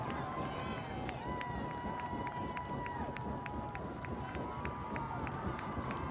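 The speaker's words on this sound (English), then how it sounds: "Crowd roaring to life." Steady roar of a high school football playoff crowd in a stadium, a dense continuous wash of many voices with a sustained whistle-like tone and rhythmic clapping or drum hits throughout, broad and loud with announcer-style talk over it.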